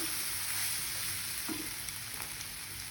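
Egg sizzling steadily in a pan with masala for kothu parotta, a loud continuous frying hiss with a few faint scrapes, no voices.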